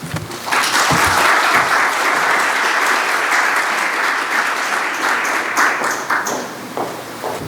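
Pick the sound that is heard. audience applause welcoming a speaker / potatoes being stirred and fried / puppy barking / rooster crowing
audience applause welcoming a speaker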